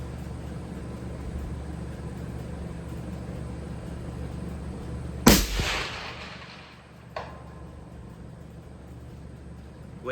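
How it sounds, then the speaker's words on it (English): A single loud, sharp rifle shot fired outdoors while re-zeroing the scope, cracking once and then rolling off in a brief echo, followed by a fainter thump. "I'm going to shoot one more, Larry, just to verify."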